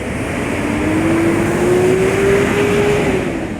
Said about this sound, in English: Here comes a loud truck.